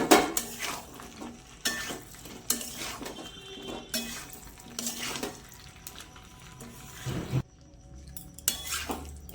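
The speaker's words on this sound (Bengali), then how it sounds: "এবার ভেজে রাখা এঁচোড় আর আলুগুলো দিয়ে মশলার সাথে ভালো করে নাড়ব।" Jackfruit and potatoes, fried earlier, are stirred into a cooked-down tomato spice paste in a pan, with repeated clattering scrapes of a spoon against the pan coming in bursts, close up, and no talking.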